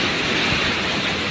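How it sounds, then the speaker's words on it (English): Strong super-typhoon wind roars in Cagayan, Philippines, a dense, loud, continuous rush of air with no break and no voices. "Oh my God, the wind is crazy."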